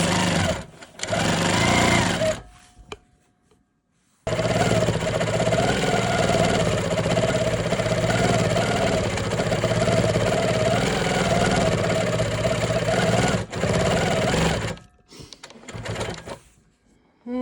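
A longarm quilting machine stitches a quilt-as-you-go strip with a loud, steady mechanical whir and hum that runs for about ten seconds, bracketed by shorter starts and stops.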